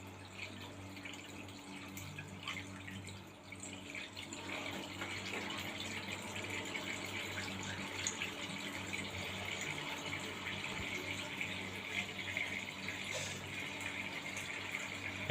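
Tap water runs in a steady, even gush into a stretching condom, swelling slightly louder after a few seconds and continuing unbroken with no talking.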